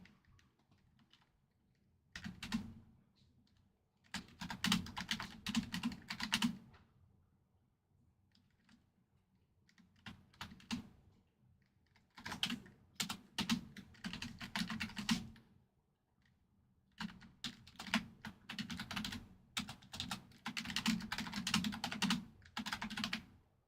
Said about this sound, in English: typing it out now